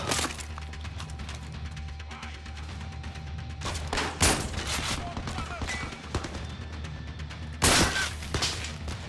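Pea shooter gunfire in the VR shooter Zero Caliber, with several sharp close shots standing out above a busy battle background of other gunfire and noise.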